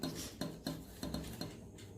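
Strawberry cake ingredients are mixed in a bowl with a quiet, rhythmic series of utensil taps and scrapes, about five strokes in two seconds.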